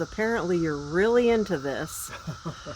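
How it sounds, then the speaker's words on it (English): A steady, shrill cicada drone hums faintly in the background while a person talks over it up close. "Can you hear them? Can you hear the cicadas"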